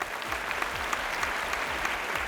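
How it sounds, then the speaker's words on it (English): An audience at a pentathlon grand finale gives the chief guest a round of applause. The clapping is fairly soft and distant, even and continuous throughout. "Can we get a round of applause for our chief guest"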